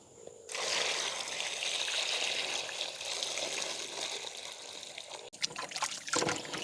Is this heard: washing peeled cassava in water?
yes